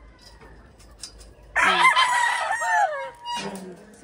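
A Sweater breed rooster in a breeding pen crows loudly and close by, one long ragged cock-a-doodle-doo followed by a shorter call, with a brief spoken word just before.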